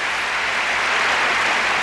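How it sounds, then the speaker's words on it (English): Steady, full applause from the audience at the 1982 World Pro artistic skating competition, a continuous wash of clapping that stays even throughout without voices. "This crowd applauding again."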